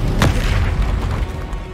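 A Confringo fire spell detonates in Hogwarts Legacy gameplay, a deep booming blast right at the start whose heavy low rumble rolls on and fades over the following second and a half, with no voices.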